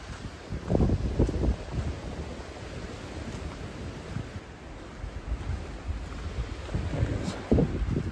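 Steady wind buffets the microphone on a ridge along the Appalachian Trail, a broad rushing roar with occasional louder gusts and no voices.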